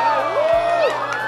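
A studio audience at a Taiwanese variety talk show cheers and whoops in a brief, lively burst of crowd noise with a rising shout.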